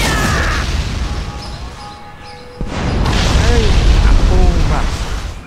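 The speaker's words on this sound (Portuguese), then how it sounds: "As explosões são bem pesadas" Heavy fireball explosions from a Portgas D. Ace mod in GTA San Andreas, deep booming rumbles, loud and close, rising again after a brief lull, with someone talking over them.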